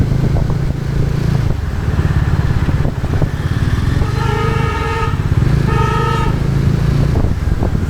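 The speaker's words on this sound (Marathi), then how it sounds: "मागातपासून हॉर्न मारतो पागल झाला." A vehicle horn honking repeatedly from behind a motorcycle on a road in traffic, loud steady engine rumble with two bursts of tooting over it, no talking.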